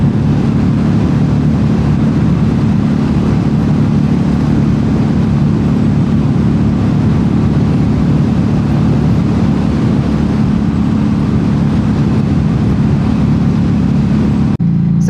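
A Harley Davidson Street XG500 motorcycle rides through Australian countryside, its engine giving a steady, continuous low rumble with wind noise, close and loud throughout with no speech.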